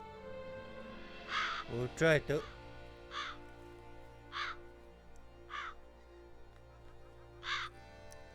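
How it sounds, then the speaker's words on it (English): Crows caw in The Witcher 3: Blood and Wine: a series of separate harsh caws spaced a second or so apart, moderately loud, with a voice speaking briefly among them. "Lots of crows."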